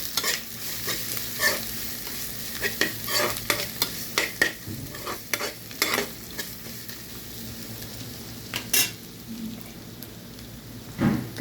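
A spoon stirs carrot buttermilk curry in a pan, with repeated scraping clicks and knocks over a steady, soft sizzle, close and fairly loud.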